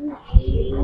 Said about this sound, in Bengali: এই যে এটা বেজি একটা কবুতর